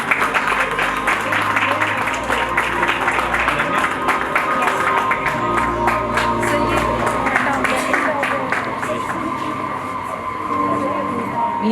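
Applause at a school investiture ceremony, a crowd clapping steadily and fairly loudly throughout while sound-system hum and low murmurs run underneath.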